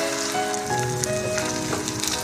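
Oysters mixed with garlic sprouts frying in a pan for a Fujian-style oyster omelette, giving a steady close sizzle with crackling spatters and faint background music tones throughout.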